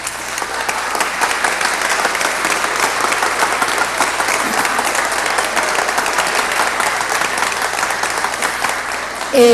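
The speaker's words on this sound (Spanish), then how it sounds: "saludemos con un aplauso al candidato por el Partido Verde, Carlos Vicente de Rúa, a la alcaldía de Bogotá" A crowd at a public accountability event applauds the Green Party candidate for mayor of Bogotá, a long, dense stretch of steady clapping that holds loud and even, ending with a brief bump of noise.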